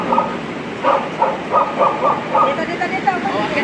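A dog barks in a quick series of about six sharp barks at a clearing outdoors, loud and fairly close, followed by a few fainter yips.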